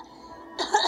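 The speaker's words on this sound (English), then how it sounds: "Yeah, I got this cough." A single short cough bursts out near the end of a quiet moment, close and fairly loud, with a faint murmur just before it.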